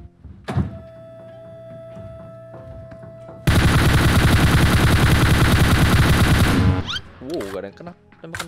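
Automatic machine gun fire from an MG3 in the mobile shooter PUBG Mobile, a loud continuous burst of about three seconds standing out sharply after quieter game sounds, with a voice before and after.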